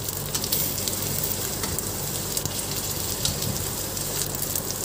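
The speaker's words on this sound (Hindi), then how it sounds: "ये देखिए मैं सैलो फ्राई कर रही हूँ भिंडी को।" Okra (bhindi) shallow-fries in oil in a pan, a dense, even crackling sizzle that stays close and constant throughout with faint occasional pops.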